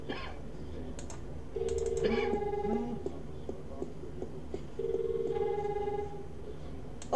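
A telephone rings twice in The Longest Journey, each a warbling electronic trill about a second long with a pause between, over light clicking from a computer keyboard.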